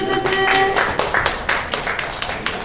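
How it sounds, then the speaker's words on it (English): Audience clapping at a sports innovation demo day, a sparse, fairly close run of separate claps with a few clear sharp hits and no voices. "can I have some applause"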